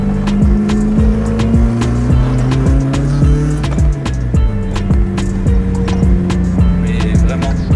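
Car fitted with Weber carburetors driving along a country road at low speed, around 30 km/h; a loud, steady engine drone with shifting pitch and rhythmic clicking fills the whole stretch close to the microphone, with no talk.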